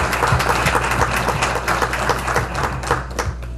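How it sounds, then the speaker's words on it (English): Audience applause at a healthcare technology summit welcome session, a steady round of clapping from a crowd over a low background hum, with no talk over it. "want to give them a big round of applause for having us use this facility"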